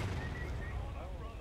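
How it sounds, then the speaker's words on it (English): Artillery cannon firing in a Civil War battle video game with a large multiplayer match, a dense continuous rumble of booming blasts under game noise and faint voices. "Someone's artillery just shot."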